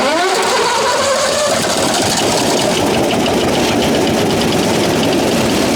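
A wood chipper's engine starts with a rising pull and catches, then runs loud and close with a rough, steady roar and no talking.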